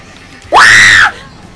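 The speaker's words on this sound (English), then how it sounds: "I scream like a little girl" A man gives one loud, high, sustained scream lasting about half a second while playing Super Smash Bros. Brawl, standing alone against quiet background sound.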